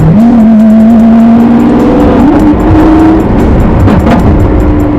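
A loud, close Lamborghini SVJ engine revs and holds a high, steady roar, pitch shifting slightly as it climbs, with no talking over it.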